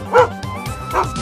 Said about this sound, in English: I hear barking.